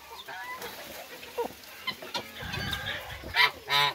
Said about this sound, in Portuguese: Foi uma galinha da Angola que estava em cima do pé de árvore.